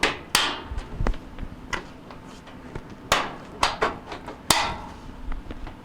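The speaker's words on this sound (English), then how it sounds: "you can push down and snap it into place" A sensor switch on a Kenmore washer is pushed down and snapped into place, giving a series of sharp plastic clicks and knocks at uneven intervals, close and moderately loud.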